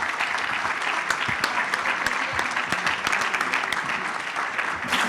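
Audience at a construction congress political debate applauding steadily in a hall, a dense, even wash of clapping from many hands that holds at a constant level throughout without any speech.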